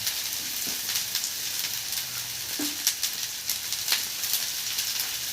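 Carrots, green capsicum and cabbage stir-frying over a high flame for vegetable chowmein, a steady close sizzle and hiss with a few scraping stirs and light clatters.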